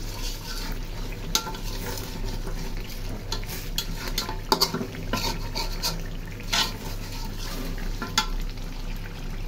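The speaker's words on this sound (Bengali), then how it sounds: "নাড়াচাড়া দিয়ে তারপরে ঝোলে পানি দিয়ে দিই" Chicken curry, thickened and slightly sticking at the bottom, is stirred in a pan: scattered scraping clicks of a utensil over a steady, soft sizzle, with no talk.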